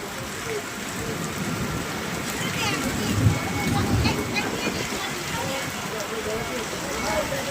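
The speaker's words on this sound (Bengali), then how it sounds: "প্রচুর বৃষ্টি হচ্ছে।" Heavy midday rain pours down in a dense, steady hiss, close and continuous, with a faint voice mixed underneath.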